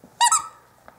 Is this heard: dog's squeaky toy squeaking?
yes